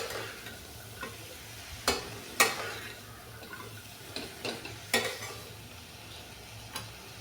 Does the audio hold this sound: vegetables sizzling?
yes